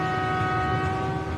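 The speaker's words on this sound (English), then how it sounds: "They need to clear their machines off the track fast so Jordy and Tom's train can pass." A train sounds its horn while running on the track, a loud steady multi-tone blast held throughout over low rumbling rail noise, close and alone without talk.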